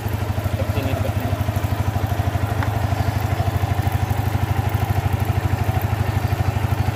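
A motorcycle engine runs steadily in gear with the drive chain turning, a loud, close, even rhythmic chatter and hum that continues without a break and with no talking.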